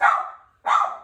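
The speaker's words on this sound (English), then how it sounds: "Sorry, that's my dog." A dog gives two loud, close barks in quick succession, separated by a brief silence, with no other sounds around them.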